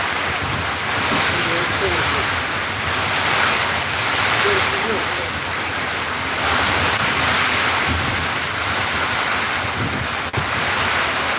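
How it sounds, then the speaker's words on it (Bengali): Nor'wester storm at night in Sylhet, with strong wind and heavy rain roaring as a dense, continuous wash of noise, loud and steady throughout, with occasional gust swells. "প্রচণ্ড বাতাস হচ্ছে এবং প্রচণ্ড গতিতে বৃষ্টি হচ্ছে"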